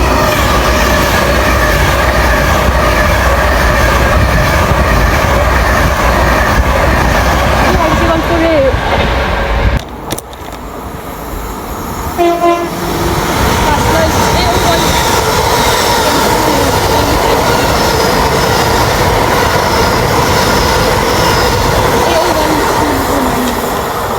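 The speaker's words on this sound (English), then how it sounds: "Nice, 390, 119. That's nice, 390 into Glasgow Central." A Class 390 electric train passes close by at Motherwell station, bound for Glasgow Central, with a loud, continuous roar and rumble throughout and a brief dip midway; people talk faintly beneath it.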